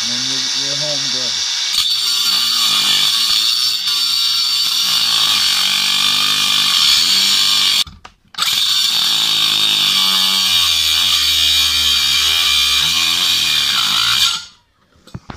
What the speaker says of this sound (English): So then you go for grinding until you get the circle.